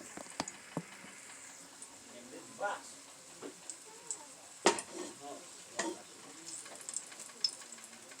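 Hot grease sizzles and crackles steadily in a big frying pan while plantains fry, with scattered clinks and scrapes of a utensil stirring and voices nearby.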